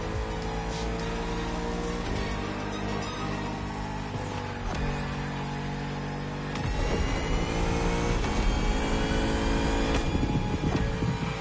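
Bugatti Vision GT in The Crew video game: a close engine revving through rising and falling gear changes, steady and loud, then growing more intense for the final few seconds.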